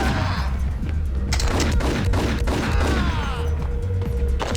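Gunfire in the Max Payne video game: loud, close shots in quick succession with heavy thuds and booming impacts, continuous across the short stretch.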